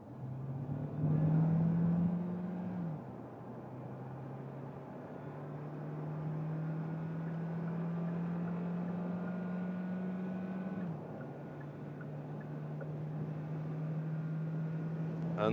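A 2024 Hyundai Tucson N-Line hybrid accelerates in sport mode from 50 km/h. Its engine drone rises steadily, drops twice at gear changes and climbs again, moderately loud and heard from inside the cabin.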